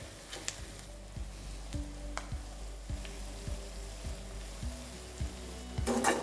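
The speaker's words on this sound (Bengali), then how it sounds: "আর এটা ফ্রাই করতে করতে আপনাদের দিয়ে দিতে হবে কারি পাতা।" Small onions and curry leaves fry in a pan on high flame for chicken liver masala, giving a steady close sizzle with a few clinks of stirring and no talk.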